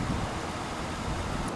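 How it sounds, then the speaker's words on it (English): Strong wind gusting outdoors and buffeting the microphone, a steady loud roar filling the short stretch with no talking. "I hope you can hear me because it is very windy right now"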